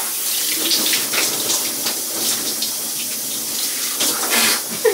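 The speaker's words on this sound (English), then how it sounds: "Rinse it off with some warm water." Warm water runs steadily from a faucet, rinsing off a scrub of coconut oil, brown sugar and lavender, a continuous close splashing stream with shifting spatters and no voices.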